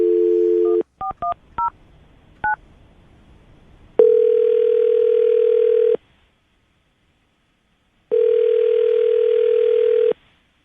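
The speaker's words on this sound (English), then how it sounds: "I'm going to dial the phone number, see if we can get her on the phone" A telephone handset on a radio show gives a brief steady tone, then a rapid string of dialing beeps, followed by two long, loud ringback tones separated by silence.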